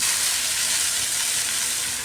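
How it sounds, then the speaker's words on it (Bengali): Dried chilli and fenugreek seeds fry in hot oil as a tempering, making a steady, bright sizzle that holds close and even throughout, with no voices. "ফোড়নটাকে একটু ভালো করে ভাজা ভাজা করে নিচ্ছি, এতে করে ফোড়ন গন্ধটা খুব সুন্দরভাবে বেরিয়ে আসবে।"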